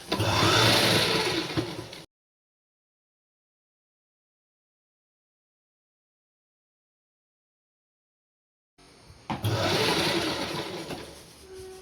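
A sewing machine stitches a pant waistband in two short, close runs separated by a long silence.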